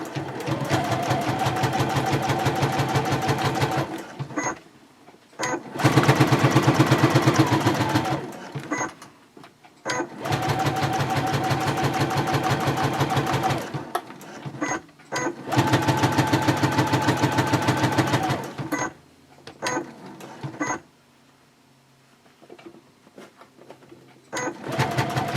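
A sewing machine stitches a seam on a clear vinyl project pouch in several steady, loud runs of a few seconds each. The runs are separated by short pauses with faint clicks.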